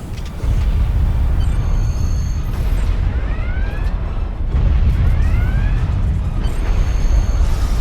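Phaser fire disintegrating a cadet in the game Star Trek Online, loud booming blasts with rising, sweeping whine tones over a dense, rumbling sci-fi background that runs throughout.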